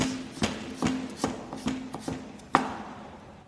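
A chef's knife chops vegetables into julienne on a board, giving six or seven crisp, evenly spaced knocks close by, with the last one the loudest, in a quiet room.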